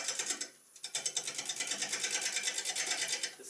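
A wood lathe spins a dry hollow wooden form at about 500 to 550 rpm, making a fast, steady, rhythmic mechanical pulsing that runs close and continuous, with a short dip early on.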